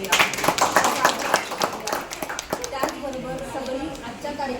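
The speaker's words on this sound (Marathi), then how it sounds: "आपण एकदा जोरदार टाळ्या वाजवूया" An audience at a public event for hospitals and a medical foundation in Maharashtra claps in a brisk burst of applause that fades after a few seconds as a voice takes over.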